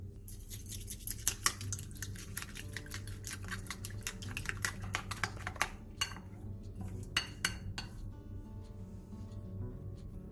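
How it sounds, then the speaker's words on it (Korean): A utensil clatters and taps rapidly inside a bowl as two eggs, chopped cheongyang chili and a little salt are beaten together, a dense run of close clicks and scrapes with no talk. "볼에 계란 2개, 청양고추, 소금 조금을 넣고 골고루 섞어주세요"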